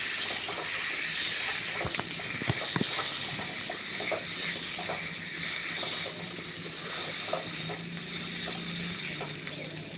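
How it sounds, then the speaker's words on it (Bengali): Water poured into a pan of spiced potato, eggplant and Halua Chanda fish curry, a soft, faint hissing splash that carries on steadily at low level, with no voices. "এরপর পরিমাণ মতো আমরা জল ঢেলে দিলাম।"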